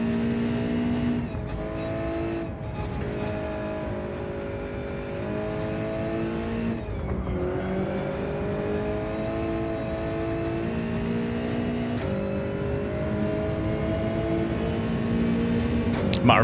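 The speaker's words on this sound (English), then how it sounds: "Might have rev third a bit too much there." Toyota 86 engine in Gran Turismo 7 revving hard in third gear, a steady loud drone with rising and falling harmonic sweeps and brief shift dips, continuous throughout.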